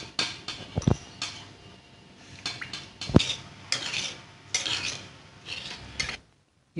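A spoon stirs salt into lemon juice in a small bowl with a series of close, irregular scrapes and clinks against the dish, quiet between strokes, with no one talking.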